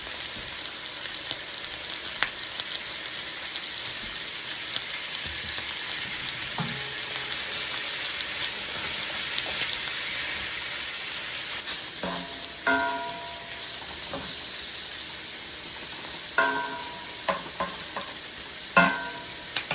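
Mongolian beef and noodles fry in oil in a pan, giving a steady soft sizzle with occasional stirring scrapes and clinks that grow more frequent toward the end.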